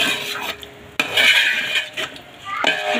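A spoon stirs curd into chicken biryani in a pot, giving close scraping and clattering with a sharp knock against the metal, then more mixing.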